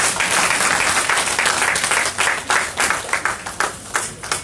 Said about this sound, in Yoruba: Àtẹ́wọ́ ńlá fún Jésù.